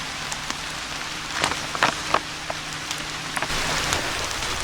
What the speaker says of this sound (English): And the rain is coming down.